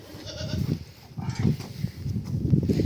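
A goat being held for hoof trimming bleats several times close by, the calls ragged and overlapping with rustling movement and handling noise.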